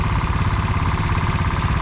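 A steady, rumbling motorcycle engine idles close by, its low pulsing beat unchanging throughout.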